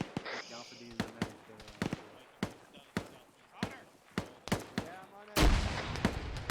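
Frag grenade blast in the military shooter ArmA 3, a loud broadband explosion near the end following a run of sharp gunfire cracks and shots, with people talking over the action.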